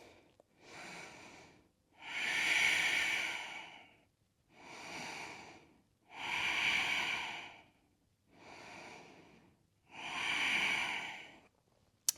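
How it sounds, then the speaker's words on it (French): Slow, deep breaths during a yoga plank in a shoulder-strength session, alternating shorter inhales and longer, airy exhales in an even rhythm, close and fairly soft, with no talking. "respire."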